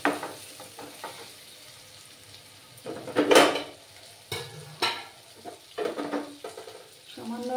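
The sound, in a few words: potatoes added to frying spice masala in pan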